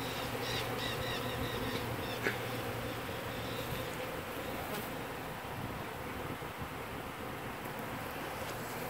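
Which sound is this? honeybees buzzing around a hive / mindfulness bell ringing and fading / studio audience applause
honeybees buzzing around a hive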